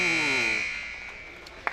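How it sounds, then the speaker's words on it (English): At a hockey tournament arena, the period buzzer sounds one loud, sustained electronic blare that slowly fades, followed by a brief knock near the end. "that buzzer could be turned down"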